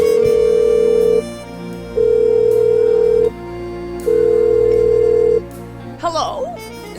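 A telephone rings out in the Blackwell Unbound video game, three long, even electronic tones separated by pauses, loud and close, followed by a brief click as the line picks up.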